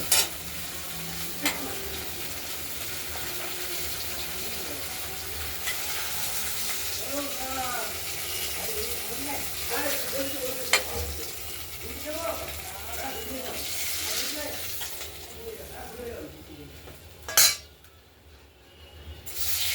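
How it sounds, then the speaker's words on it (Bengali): Pieces of rohu fish fry in oil with a steady sizzle, accompanied by spatula stirring and clinks as pieces are lifted out, while a voice talks intermittently over it. "মাছগুলো ভাজা হয়ে গেছে"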